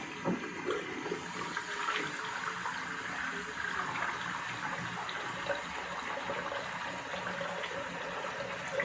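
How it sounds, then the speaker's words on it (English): Water runs steadily for several seconds while baby-wipe soap is rinsed off a head, a continuous splashing wash with no talking. "so I'll just rinse that off my head"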